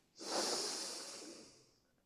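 A person doing a slow qi development exercise draws in one long, soft, airy breath close to the microphone, fading gradually over about two seconds.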